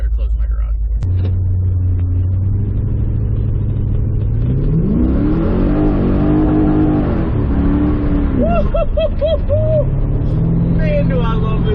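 A rebuilt car, once stolen and totaled in a police chase, starts up in a garage and idles with a deep rumble, then its engine is revved loudly several times close by, with someone talking over it.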